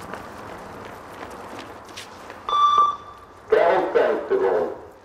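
A loudspeaker beep times a shuttle-style running test for Foreign Legion recruits, a steady tone cutting in briefly at mid-clip over crowd noise and voices, followed by louder bursts of activity.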